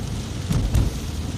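Rain patters steadily on a car windshield during a drive through hilly country near a river around Kuala Kurun, a dense, even wash of drops with two brief louder swells.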